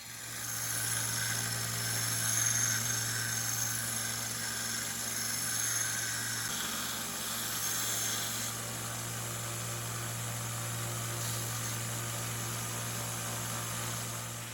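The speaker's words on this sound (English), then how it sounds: "begins by grinding off the sharp edge" A power grinder grinds off the sharp edge of a homemade card scraper, a steady continuous whine with a constant hum beneath, moderately loud and unbroken throughout with no talking.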